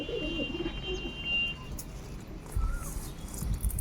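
Pigeons coo softly at a nest where a female sits on eggs, low murmuring calls repeating in the first half amid faint background hiss and a few chirps.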